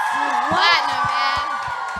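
An interview audience bursts into loud whooping and cheering, with shouts rising over a bed of clapping and crowd noise, close and energetic.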